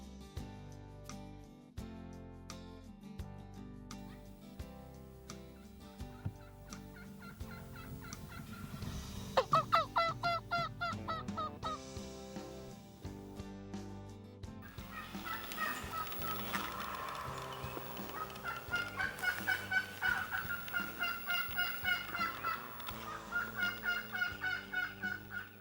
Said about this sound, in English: What sounded like two gobblers up on this ridge